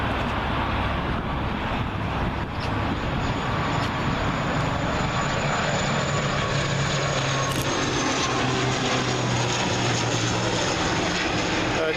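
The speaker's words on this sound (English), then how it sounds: "Another proper job coming in here. Logan Air ATR 72500." Logan Air ATR 72-500 turboprop arriving at Heathrow from the Isle of Man, giving a continuous, fairly loud propeller and engine drone with a low hum that holds steady, no voices over it.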